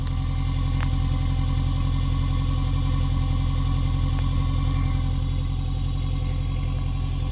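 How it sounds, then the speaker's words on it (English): A petrol car burning 98 octane fuel idles steadily up close, its low engine drone constant and unbroken with faint clatter and no talk. "Water in the exhaust of a piston engine which is burning 98 octane petrol."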